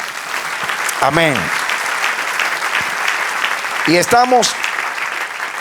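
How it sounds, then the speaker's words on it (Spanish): A church congregation applauds steadily for several seconds, a dense wash of clapping with a voice speaking over it twice. "Del otro aplauso al Señor."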